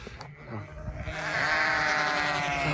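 A single long, wavering sheep bleat rises close by and holds to the end, following a few seconds of quiet rustling.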